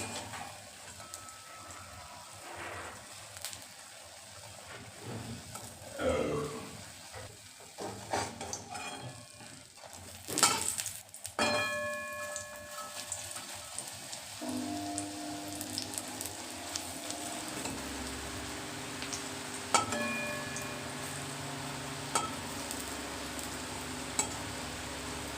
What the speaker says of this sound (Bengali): এইভাবে আমি সমস্ত বড়াগুলোকে ভেজে নেব